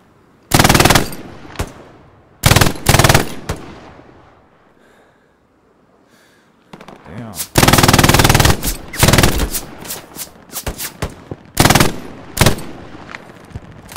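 MG42 machine gun fire in Hell Let Loose on an Omaha Beach defense: several long, loud, ripping bursts separated by pauses, the later bursts choppier and more clustered, with echo trailing after each.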